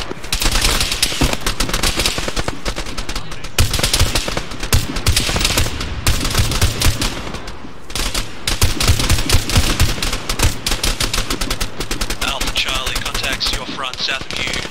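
Dense, continuous gunfire in the military shooter Arma 3, with overlapping rifle and machine-gun bursts, some near and loud, others more distant, running throughout with brief lulls.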